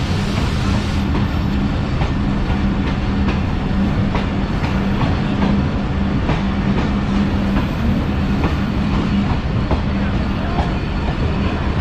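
A train at Bahawalpur railway station gives a loud, steady rumble with repeated rhythmic clacks and a low droning hum throughout.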